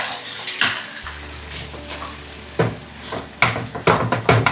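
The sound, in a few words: mixing a farali samosa filling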